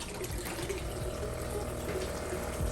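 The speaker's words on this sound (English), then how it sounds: "The dripping has just started." Water trickles and runs continuously during drip acclimation of newly received aquarium fish, a steady close flow with a faint pump-like hum underneath and no voices.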